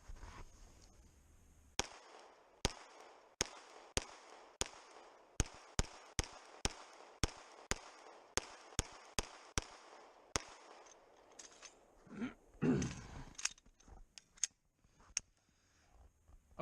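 Repeated sharp gunshot cracks from a Walther pistol, Creed or PPX, fired in a steady string of about twenty evenly spaced shots, loud and close, with a short rustle near the end and two final shots.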